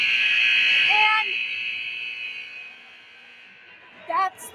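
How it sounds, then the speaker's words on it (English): A hockey game's end buzzer at an Elk River Elks vs Stillwater game: a loud, steady, high electronic tone held for about two and a half seconds, then fading. A voice briefly speaks over it and again near the end. "The buzzer sounded."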